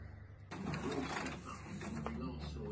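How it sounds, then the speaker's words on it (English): A printer at home starts running with a steady mechanical whir and faint clicking, close and continuous after a quiet moment. "You watching the printer, Biggie?"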